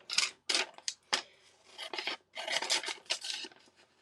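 Fiskars paper scissors cut through paper in close, crisp snips and longer rasping slices, uneven in rhythm, with no one talking.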